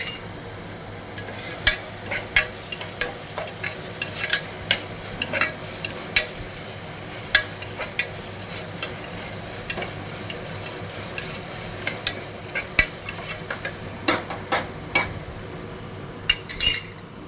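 Rice gruel cooking in a pot is stirred with a metal spoon, giving a run of repeated scrapes and clinks against the pot over a soft bubbling simmer, close and fairly loud.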